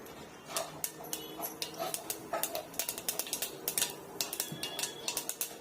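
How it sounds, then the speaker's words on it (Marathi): Mustard seeds crackle and pop in hot oil in a pan, a quick irregular run of sharp snaps with faint utensil clinks, fairly quiet. "मोहरी तडतडली की जिरे,"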